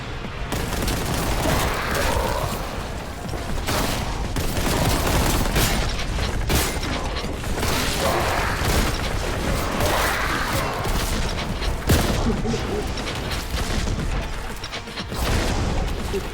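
Rapid automatic grenade blasts in Warhammer 40,000: Boltgun, a dense, continuous barrage of booms and crashing explosions layered over game noise, loud and unbroken throughout.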